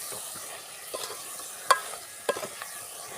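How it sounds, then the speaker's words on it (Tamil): Potato and coconut sautéing in a pan with a spoon stirring now and then, giving a faint sizzle, soft scrapes and a couple of sharper clinks against the pan. "இது செத்த வதக்கட்டும் வார தேங்காய் போட்டுக்கிடுவோம் உருளைக்கிழங்கு தேங்காய் போட்டுட்டேன்"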